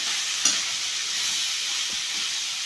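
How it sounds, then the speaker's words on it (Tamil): Onion sizzles steadily while tempering in a hot pan, a bright continuous hiss, with a faint clink near the start. "வெங்காயம் மட்டும் போட்டு தாளித்தோம்"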